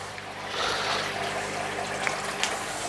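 Water drains out of a koi pond net, a steady close trickle and splash that holds through the clip with small spikes of drips, with no talk over it.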